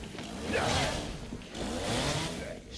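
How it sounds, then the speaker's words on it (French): Chainsaw in the video game Resident Evil Requiem, two loud buzzing surges about a second long each, rising and falling, with a muffled voice underneath. "Encore une tronçonneuse les frères"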